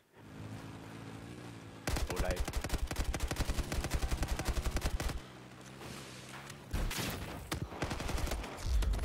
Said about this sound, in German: Hey, ich schieß ihn ab und treff ihn nicht.